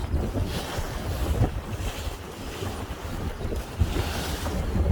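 A west-southwest wind blows on a shore, steady roaring gusts buffeting the microphone, mixed with waves washing in, continuous and loud with no talking.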